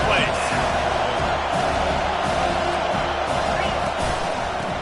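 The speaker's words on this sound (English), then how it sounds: "this crowd is tearing the lid off this place" A stadium crowd at a football game roars loudly and without a break on a third down, a dense wall of cheering with whoops rising through it, and an announcer talking over the top.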